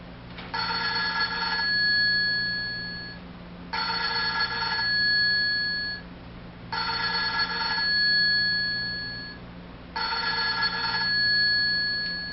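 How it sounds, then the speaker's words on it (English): A telephone rings four times in evenly spaced bursts, each a bright trilling bell followed by a pause of quiet line hum. "I picked up the phone and dialed."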